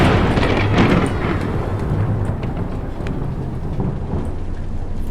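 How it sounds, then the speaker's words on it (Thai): Thunder cracks and rumbles with steady heavy rain in a horror video game, a loud close strike near the start rolling into continuous storm noise for the rest of the clip. "ฟ้าผ่า"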